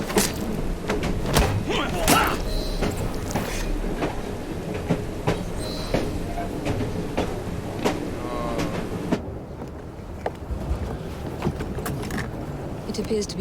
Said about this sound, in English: Oh well, at least we have a train now.